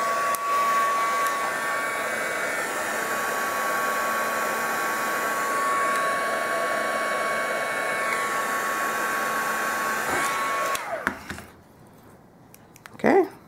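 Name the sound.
heat tool blowing on a painted clothespin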